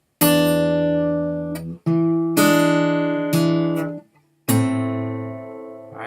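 An acoustic guitar strums several ringing chords in sequence, each left to sustain briefly before the next, moving slowly between two chord shapes.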